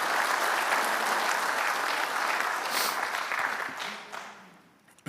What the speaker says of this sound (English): let's give her a big round of applause for winning that scholarship